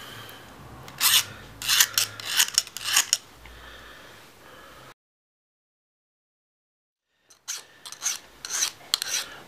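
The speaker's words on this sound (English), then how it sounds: "Do your rough filing until you get your notches out" Rough filing of notches out of a blade edge: bursts of rasping strokes in quick rhythm, close and alone, broken by a silent pause of about two and a half seconds before the rasping resumes.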